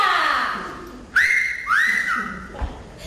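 A man gives two rising wolf-whistle calls aimed at a woman in the street, performed on stage in a Valencian falla theatre piece, clear and close with brief pauses between.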